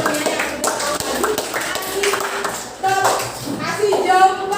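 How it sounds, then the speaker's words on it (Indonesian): Students in a classroom clap for a classmate who answered correctly, scattered claps and taps mixed with voices talking over them, moderately near and uneven in rhythm. "tepuk tangan buat temennya yang sudah tahu tadi"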